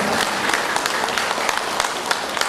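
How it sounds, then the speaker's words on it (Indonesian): Audience applause at an Indonesian organising committee's welcoming gathering, a dense, steady wash of many hands clapping at close range, loud and sustained without letup. "Kita berikan tepuk tangan yang sebesar."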